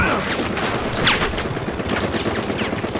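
Rapid, dense gunfire from the shooter game Battlefield Hardline rattles continuously in a bustling firefight, with overlapping automatic bursts and scattered impacts filling the whole stretch at steady loudness.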